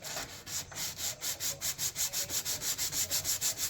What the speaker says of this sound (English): sand your lines